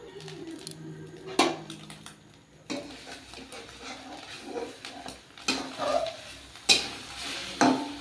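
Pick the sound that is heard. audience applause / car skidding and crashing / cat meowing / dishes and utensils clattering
dishes and utensils clattering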